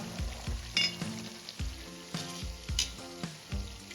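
Masala sizzles in oil for Kashmiri chicken while a spoon scrapes and stirs it in a steady rhythm of rough strokes, close and clear.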